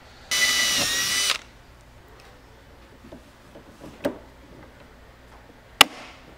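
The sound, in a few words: drilling hole for Camaro drag wing install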